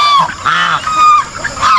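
Farm geese honking loudly and close by, several overlapping nasal calls in quick succession with no talking.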